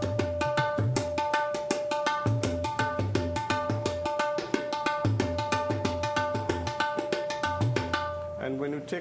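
Tabla-style drum cycle played at a faster tempo, with dense rapid strokes, ringing tuned tones and deep bass hits repeating in a steady cycle, loud and continuous throughout.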